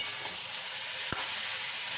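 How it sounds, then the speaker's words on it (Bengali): Pumpkin greens and winter vegetables with green chilli paste fry in a pan, a constant broad sizzle with one brief scrape of stirring midway. "পুরো পুরো সবজিটা নাড়াচাড়া করে ভাজা ভাজা করে নিচ্ছি"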